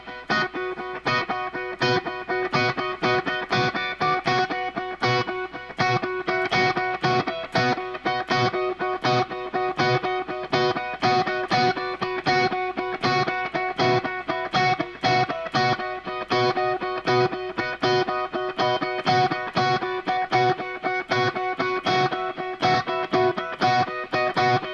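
Distorted electric guitar playing the same chords with a busier, denser rhythm, a steady stream of loud strummed chords with no talking.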